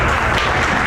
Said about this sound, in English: You should applaud for her